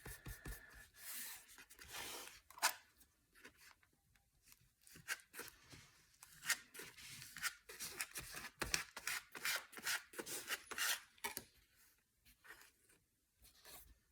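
Close, uneven rubbing and scraping of a tool over paper ephemera in an art journal, in short strokes and bursts with brief pauses, no talk.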